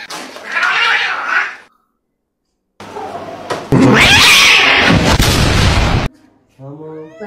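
A cat at a grooming salon yowls and caterwauls angrily in loud, harsh bursts separated by a silent gap, followed by a few short meows at the end.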